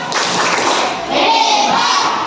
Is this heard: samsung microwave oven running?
no